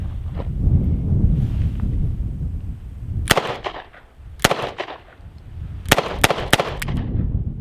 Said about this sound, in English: So these are the first few rounds out of this gun after it had been fixed.